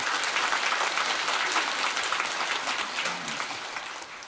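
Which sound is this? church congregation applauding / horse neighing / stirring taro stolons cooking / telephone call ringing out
church congregation applauding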